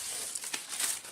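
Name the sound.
tissue paper crumpling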